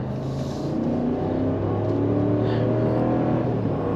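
A 2022 Ram 1500 Big Horn pickup with a 5.7L Hemi V8 accelerates hard on the road, giving a loud, sustained engine roar heard from inside the cab throughout.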